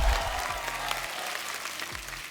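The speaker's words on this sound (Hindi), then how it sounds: "एक बार जोरदार तालियां हो जाए." A studio audience at a television comedy show claps steadily throughout, a dense, even wash of applause that holds at the same level without breaks.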